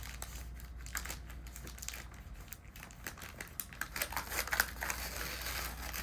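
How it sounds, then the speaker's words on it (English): A sterile glove package is peeled open by its two tabs, giving soft crinkling and crackling of paper and plastic that grows busier and louder toward the end, with no talking. "You want to take those two tabs, start to peel it back."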